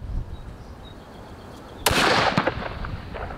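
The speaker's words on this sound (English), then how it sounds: "We take a second shot." A rifle shot fired at 3A body armor from 650 yards sounds as one sharp, loud crack near the start, then a trailing rumble and a faint second pop, outdoors with light background noise.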